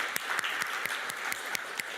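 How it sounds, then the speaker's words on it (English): Applause from an audience at a NextGen programs session, steady scattered clapping with a few sharper distinct claps standing out at a regular pace, moderately quiet and without talk. "Let's give them a big round of applause."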